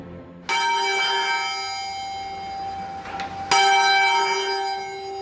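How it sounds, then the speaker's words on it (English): The Bow Bells of St Mary Le Bow church in London, two loud bell strikes a few seconds apart, each ringing on with a long sustained hum. "These are the Bow Bells, arguably the most famous bells in London"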